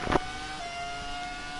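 Historic Formula 1 race car at a historic F1 round, a high steady engine scream held on a sustained pitch, with a brief louder burst at the start as it passes close.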